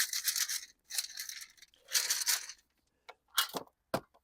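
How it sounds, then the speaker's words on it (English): Soil is shaken through a 13mm garden sieve in bursts of gritty rattling and scraping, several shakes separated by brief pauses, close and fairly quiet with no talking. "So that goes through a 13mm sieve"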